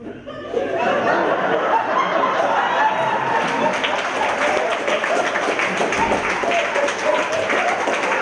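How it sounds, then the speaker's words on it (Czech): An audience applauds at the end of an amateur comedy play, with sustained dense clapping that starts abruptly and continues evenly throughout, mixed with scattered laughter and chatter from the crowd. "Komedie skončila za potlesku diváků"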